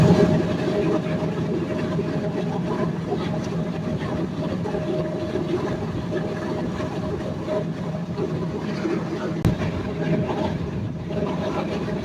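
Steady loud rumble of the Sundarban Express passenger train leaving Faridpur station, continuous and close, with a faint rhythmic clatter of wheels on the track.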